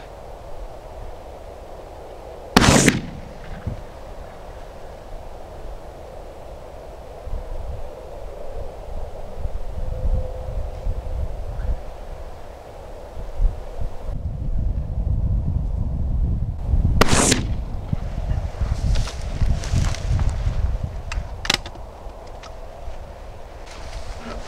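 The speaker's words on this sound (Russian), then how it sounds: "4 выстрела подряд пулей" A TOZ-34 shotgun fires slugs outdoors, with a few sharp, loud reports spaced well apart over steady wind noise.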